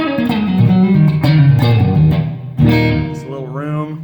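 A Telecaster electric guitar plays through the clean channel of a Mesa Rectoverb amp with a little Big Sky reverb, giving continuous strummed and picked notes with a soft room-like tail, fairly loud and near, with no voice.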